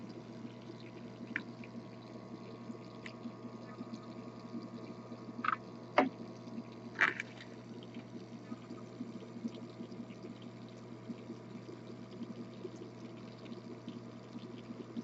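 Liquid dripping slowly during filtration of isopropanol in a home lab, a few sharp distinct drips around the middle over a steady low hum, otherwise quiet with no talk.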